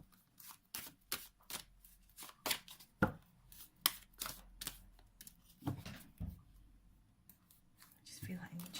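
Angel cards are shuffled by hand in a run of quick papery riffles and flicks, close and fairly quiet, with soft speech in between.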